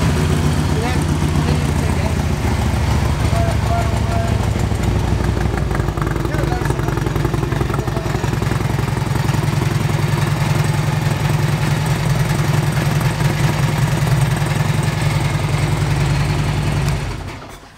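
A fuel-injected Harley Davidson Road King motorcycle with 31,000 miles and a torque pack idles close by with a loud, steady, lumpy low rumble, with a voice talking over it before it cuts off at the end.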